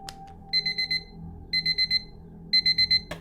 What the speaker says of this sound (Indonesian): Ketika alarm jam 3:30 berbunyi